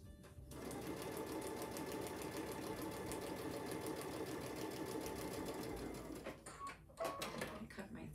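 A sewing machine stitches a quilt panel for a lattice flower design, running steadily and close for several seconds before stopping, followed by a few light clicks and handling sounds.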